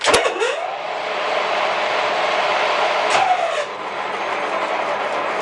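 A lathe motor runs with a harsh, unpleasant steady whine and hum after a sharp clank at the start, with another brief clunk midway.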